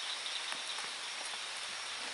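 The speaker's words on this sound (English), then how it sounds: "raining pretty good again." Heavy drizzle patters steadily on brush at a campsite, a dense, even hiss of fine drops close around with a few slightly sharper taps, no voices.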